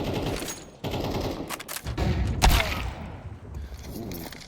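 AK rifle gunfire during a Counter-Strike match, several sharp shots spread through a busy, dense game mix with no clear rhythm.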